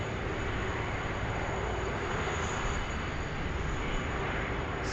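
A SriLankan Airlines plane taxis onto the apron at Sydney Airport as a steady, fairly faint engine rumble and hiss continues without a break, with no voices.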